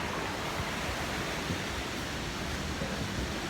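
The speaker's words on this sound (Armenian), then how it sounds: "Ահա գետը, որը ինձ մի պահ հիշեցրեց Հայաստանը, լեռնային գետ" Steady, dense rushing of a small mountain river flowing through Minnehaha Park in Minneapolis, a continuous broadband wash with no breaks, heard alone at close range.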